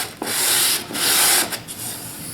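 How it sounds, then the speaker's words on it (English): Hand sanding along the inside edge of a wooden jewelry box, three close, hissing strokes of abrasive rubbing wood with short pauses between them. "I'm sanding this up. Breaking this inside edge this way"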